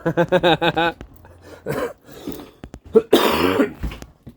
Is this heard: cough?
yes